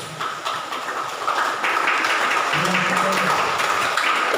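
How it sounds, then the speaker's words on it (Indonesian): A church congregation at GKI Elim Wanagon in Timika, gathered for the church's fourth anniversary, applauds a couple's wedding anniversary with a steady, dense round of clapping that swells and holds while a voice talks over it. "Kita aplaus untuk pernikahan ini."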